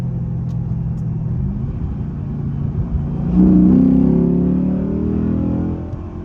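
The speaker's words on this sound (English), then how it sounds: "you can hear the engine sounds like it's breathing fire" Chrysler 300C SRT8 engine revving hard in second gear around 3,500 to 4,500 RPM, a deep rumble that swells midway into a louder rising growl, then holds steady, close and alone.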